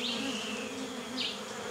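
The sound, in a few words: bees buzzing around a beehive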